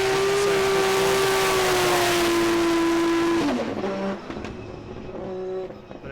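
A Formula Drift Japan car at full throttle at Okayama, with a loud sustained engine howl at a steady high pitch for several seconds, then easing off as tire noise and fainter track sounds take over.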